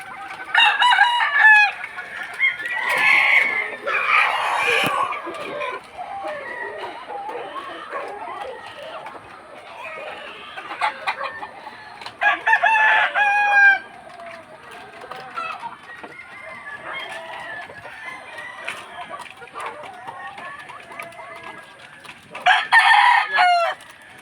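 Fighting roosters at a game-fowl farm crow repeatedly and cluck in bursts, several birds near and farther off, with people talking throughout.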